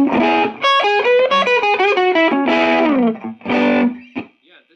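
A loud, gritty guitar played through a Vox MV50 amp with the gain turned up, heavily overdriven, with sliding notes and short sustained chords separated by brief gaps.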